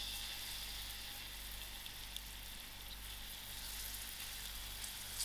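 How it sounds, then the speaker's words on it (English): Onions fry in hot oil in a pot, giving a steady, close sizzle that holds evenly throughout with no talking. "I will allow these onions to fry till soft."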